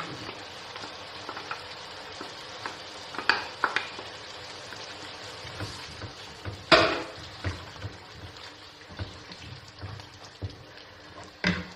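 Tomato and yogurt masala fries in a pan under a low, steady sizzle, broken by occasional sharper scraping stirs and clinks of the spoon, close and fairly quiet, with no talking.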